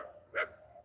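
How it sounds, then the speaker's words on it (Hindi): A single bark from a dog at night rings out once, brief and faint as if some distance away, against a quiet, hushed background. "कुत्ते भी भौंक रहे हैं"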